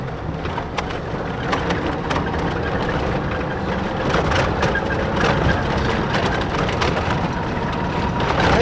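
A T-150 tractor clears snow on the Vyshkiv mountain pass road in winter, a loud continuous engine rumble with crunching, scraping texture throughout, close and unbroken, without voices.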